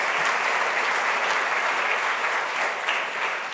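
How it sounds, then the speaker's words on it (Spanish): A church congregation applauds steadily throughout, a dense, loud wash of clapping that holds without pause from start to finish. "Démosle un aplauso al Señor."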